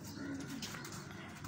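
Pet pigeons on a Faisalabad rooftop coo softly in low, rolling calls, faint and close, with people talking nearby.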